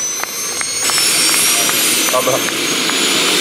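Jet engine of a Pitts aerobatic plane at the La Ferté-Alais air show, its propeller stopped and piston engine shut off, a loud continuous roar with a high whine, with a spectator briefly talking over it.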